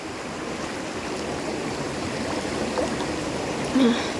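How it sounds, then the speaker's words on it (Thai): Water rushing steadily down a forest stream at an overnight campsite, a continuous even wash of flowing water with no breaks, fairly close and moderately loud. "น้ำไหลซองซ่าง"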